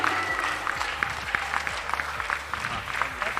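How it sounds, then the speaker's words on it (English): A crowd claps steadily at a women's throwball championship award ceremony on an outdoor sports ground, dense applause with scattered sharp claps under a faint background voice. "A big round of applause to Angel."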